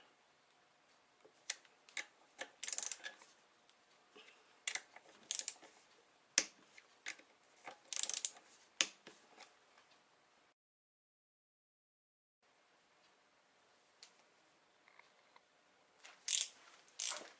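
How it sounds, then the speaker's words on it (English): Clicking ratchet of a torque wrench tightening connecting rod cap bolts on a 1984 Honda Nighthawk S motorcycle engine under disassembly, in bursts of close, sharp ticks with a quiet gap, no talking. "we'll torque those and then we'll work our way up"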